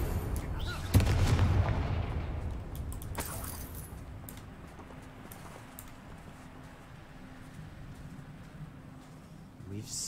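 Confringo spell explosions in the video game Hogwarts Legacy, with a sharp loud blast near the start that rumbles and decays into a long fading tail and low ambience, plus a faint later burst; a voice speaks briefly.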